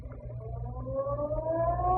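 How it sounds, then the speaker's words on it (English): The San Francisco Ferry Building siren sounds the hour across downtown, a steady rising wail with harmonic overtones that swells gradually over a low rumbling background, heard from a distance with no talking. "just as the ferry building siren was announcing 8 o'clock to downtown San Francisco"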